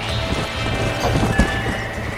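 Horse hooves clopping with neighing in the Red Dead Redemption video game, loud and close, a continuous gait with a whinny and a sharp thud near the end.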